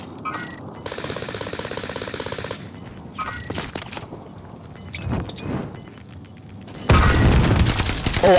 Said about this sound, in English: Molotovs will cause armor or ammo boxes to explode